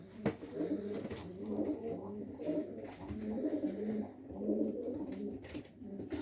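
Pigeons coo in repeated soft, throaty rolls, close by, with several overlapping calls in a steady rhythm.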